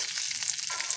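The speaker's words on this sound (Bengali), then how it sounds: "ভাজবো, আলু ভাজবো" Potatoes frying in a pan, a faint even sizzle with hissing crackle and no voices.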